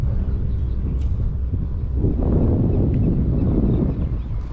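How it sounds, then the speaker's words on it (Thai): Steady low rumbling wind buffeting the microphone, continuous and fairly loud throughout with no voices. "ลมเริ่มมาแล้วครับไม่รู้ฝนจะตกใส่หัวหรือเปล่านะ"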